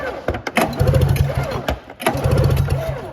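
A Lynx snowmobile engine is pulled over by hand twice, each pull giving a burst of rapid chugging cranking strokes that fades as the pull ends, loud and close.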